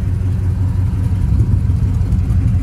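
A 1972 Chevrolet Chevelle runs steadily at close range, its exhaust giving a loud, deep, even rumble with no talk.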